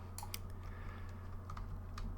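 Computer keyboard keys are tapped in a few quick, faint clicks over a steady low hum, played while building a house in Roblox Bloxburg.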